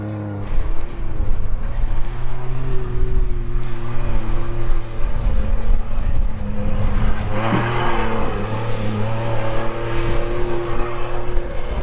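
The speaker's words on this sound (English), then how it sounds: "Once the Bronco starts to bog down, I'm going to drop it a gear into manual and leave it in manual all the rest of the way up and out." A Jeep and a Ford Bronco climb an off-road hill, engines droning steadily and loudly close by, with revs rising and shifting partway through.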